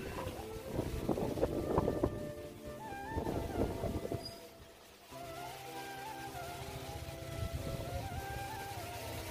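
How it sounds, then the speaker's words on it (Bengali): Strong wind gusts across a rooftop, buffeting the microphone in heavy, uneven rushes that ease briefly before returning as a steady roar. "তার উপরে আজকে হচ্ছে প্রচন্ড বাতাস"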